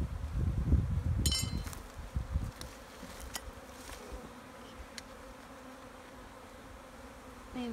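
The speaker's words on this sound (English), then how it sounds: "It's not very many bees." Honeybees buzz around an open beehive while strips of medicine are placed inside, a loud close swarm in the first few seconds that thins to a fainter, steady hum with a few light clinks.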